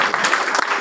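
Brief burst of audience clapping while winners of a Bahrain Micromart programme are named, dense and steady for under a second.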